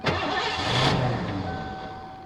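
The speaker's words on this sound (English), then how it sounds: "But it's got a noise in the engine, and this is what I mean." Engine of a 1986 Ford LTD Crown Victoria station wagon cranking and catching, a car that is hard to start and has an engine noise, running rough and steady at close range with a faint whine, no talk.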